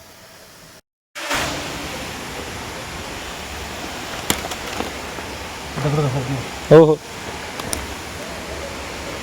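The Maulikund waterfall at Radhanagari gives a continuous broad rushing roar outdoors, steady and fairly loud throughout, with brief shouts and a few voices calling out over the water.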